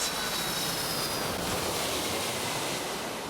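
An airliner takes off, heard as a steady, dense roar of engine noise mixed with wind rush, loud and unbroken throughout, with a faint whine fading near the start.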